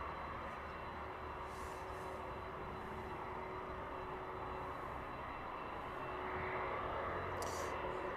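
A DHL Boeing 767 passes by as a faint, steady, broadband jet roar that swells slightly near the end, with no voices.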